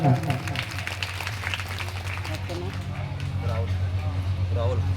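Strong applause at a village Bhagavat Katha religious gathering, a dense continuous roar of many clapping hands with steady low hum beneath.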